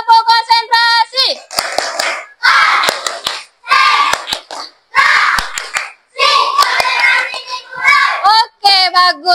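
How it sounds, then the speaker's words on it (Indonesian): A classroom does a concentration clapping game: children clap in rhythmic bursts and chant loudly together between the claps, with a teacher's voice leading the call at the start and end. "Tepuk konsentrasi."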